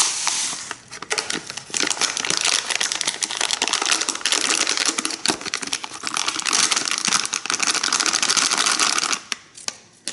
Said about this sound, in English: Dump everything out in the pan.